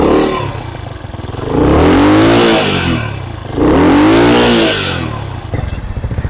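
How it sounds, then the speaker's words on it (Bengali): A Dayang Runner 80cc motorcycle, kick-started, runs close and loud. Its engine rises and falls through two revs before settling back to a steady idle. "গাড়ির ইঞ্জিনের সাউন্ডটা যদি আমি আপনাদের একটু শোনাই,"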